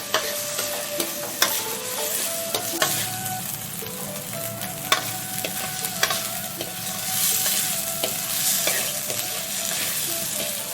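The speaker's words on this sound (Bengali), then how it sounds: "এর মধ্যে দুটো এলাচও দিয়ে দিলাম চালের মধ্যে চালটাকে ভেজে নেবো" Gobindobhog rice with cardamom frying in a pan, a steady close sizzle broken by frequent sharp scraping and tapping of a spoon stirring the grains, with no voices.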